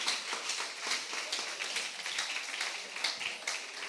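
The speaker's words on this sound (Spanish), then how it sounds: "Denle un aplauso al Señor." A congregation at a church service bursts into applause, dense continuous clapping from many hands at moderate distance, steady and unbroken with no talk over it.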